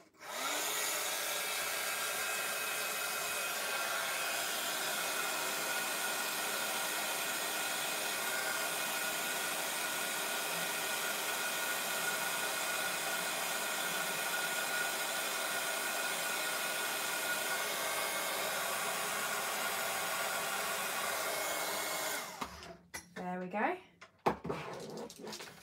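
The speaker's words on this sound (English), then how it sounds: "So I'm just going to grab my heat gun. And just going to heat that up." Embossing heat gun for a paper craft project blowing a loud, steady whooshing roar for about twenty-two seconds, then cutting off into brief handling noises.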